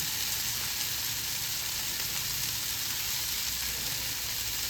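Dried-fish curry with potato and eggplant simmers and sizzles in a pan as a little water goes in, giving a steady, close, even hiss without pause and no talking.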